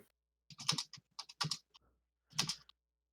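Three short bursts of keyboard typing, quick clustered keystrokes separated by pauses, close and clear in a quiet room.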